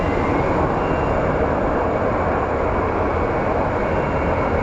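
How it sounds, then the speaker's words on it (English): Airplanes taxi at Phoenix Sky Harbor airport, a steady, loud, even jet-engine roar that holds constant from start to finish with no talk. "all the planes are taxiing in, and we are going to get our Chicago-bound Spirit Airlines taken off"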